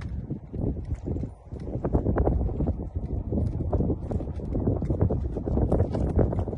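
A freshly caught quarter horse on its first ride, hooves clopping in a steady walking rhythm over ground, close and continuous, with wind rumbling across the microphone.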